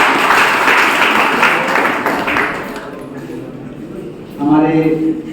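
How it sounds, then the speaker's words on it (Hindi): Audience at a college personality development session applauding a student, a dense burst of clapping for about two seconds that fades, then speech takes over. "एक बार ताली बजाइए"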